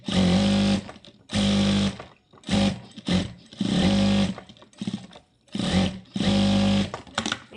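A sewing machine stitches fabric in repeated loud, close bursts of steady whirring, each a second or so long and separated by brief pauses, with no talk.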